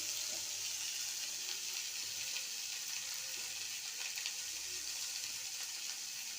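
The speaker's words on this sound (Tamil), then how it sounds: "இப்போ எல்லாம் நல்லா வதங்கட்டும்." Tomatoes and onions sautéing in a pan for a chicken liver fry, a steady broadband sizzle holding evenly throughout with faint stirring scrapes, close and moderately quiet, no voices.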